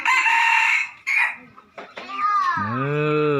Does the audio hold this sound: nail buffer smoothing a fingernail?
no